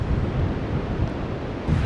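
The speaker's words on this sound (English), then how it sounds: "All right, definitely windy." Steady wind gusting across a winter Lake Erie beach in Ontario, a low rumbling buffet against the microphone with no other distinct sounds.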